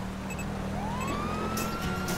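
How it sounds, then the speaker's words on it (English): A police car siren in GTA 5 Online wails with a rising tone over a steady engine drone, with a few short electronic beeps, fairly clear and without talk. "Put the sirens on."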